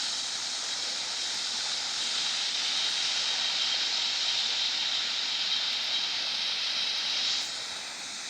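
Steady, hissing engine roar of a U.S. Navy C-130H Hercules in the Infinite Flight game during takeoff at LAX, holding constant with a slight swell and fade near the end.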